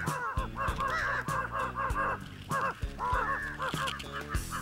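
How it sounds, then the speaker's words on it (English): Crows caw repeatedly and loudly at close range, harsh calls in rapid overlapping bursts over a steady tonal music bed. "let's see if the crows can find it."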